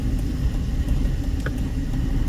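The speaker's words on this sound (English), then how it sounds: "And we've got some cross traffic" Cross traffic rolls past on a Las Vegas street at Washington and A Street, a low steady road rumble of cars at moderate distance with no voices.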